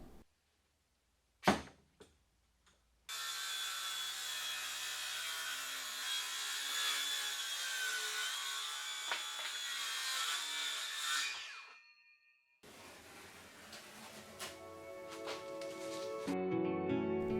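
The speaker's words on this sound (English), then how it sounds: "I'm using the cutoff as a straight edge for my circular saw" A circular saw rips through black plywood in one sustained, close, high-pitched cut lasting around nine seconds, followed by quieter workshop noise.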